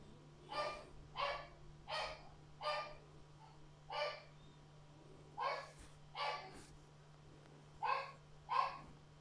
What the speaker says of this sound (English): I do apologize if you can hear a dog in the background.